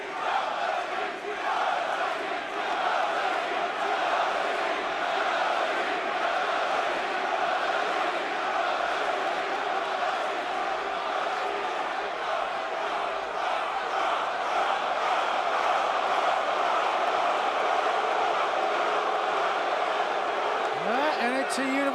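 A record crowd at an NXT TakeOver wrestling event in Brooklyn roars continuously, a dense sustained wall of cheering and shouting that stays loud throughout.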